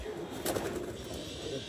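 A young pigeon, one of a fancier's tournament birds, gives a low, throaty coo that swells briefly in the middle, close and quiet against faint room noise.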